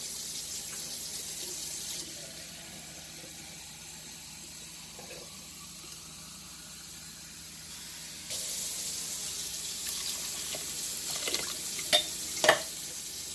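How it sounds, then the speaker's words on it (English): Water from a can is poured into a cooking pot in a home kitchen during dinner preparation, a steady soft splashing and trickling that builds toward the end with a few small clinks. "And I'm going to add a can of water to this."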